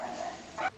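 A dog gives two short yips or barks, faint and in the background, indoors.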